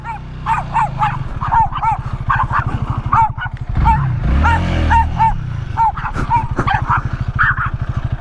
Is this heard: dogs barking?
yes